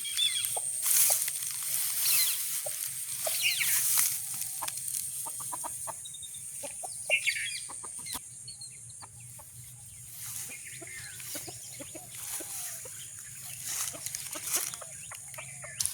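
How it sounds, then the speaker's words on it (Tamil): Several chickens cluck and chatter outdoors in a paddy field, close by, with soft occasional calls over a quiet background. "வயலுக்கு வந்து கோழி வந்து நெல்லி சாப்பிட்டு கொண்டிருக்கு."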